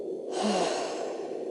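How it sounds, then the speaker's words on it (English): One slow, gentle breath, mostly a long soft airy exhale, close to the listener and alone. "breathe in gently, hold it for a couple of seconds and then out nice and gently"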